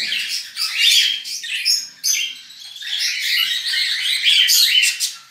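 A female white-faced cinnamon pearl cockatiel gives loud, close, shrill squawks and chirps in repeated bursts, with brief pauses between the calls.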